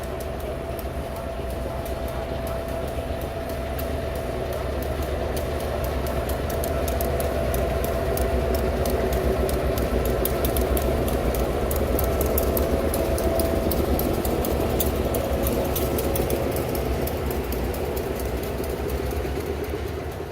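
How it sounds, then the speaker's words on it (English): A Savannah Port Terminal Railroad freight train led by a CF7 locomotive, with an SW1001 trailing, rumbles steadily past nearby, diesel engine droning under continuous wheel clatter and rhythmic clicking over rail joints. "the Savannah Port Terminal Railroad with a CF7 in the lead and an SW1001-1 in trail"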